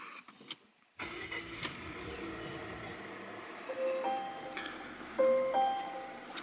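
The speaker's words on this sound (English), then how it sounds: "So I'm going to turn on the engine here." A Volvo car engine is started, with a sudden onset followed by a low idling rumble and a few faint electronic beeps and chimes from the dashboard.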